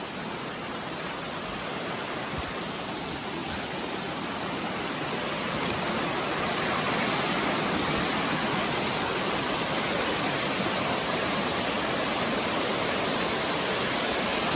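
A creek in the Appalachian mountains rushes steadily with dense, broad water noise at a constant moderate level, with no voices.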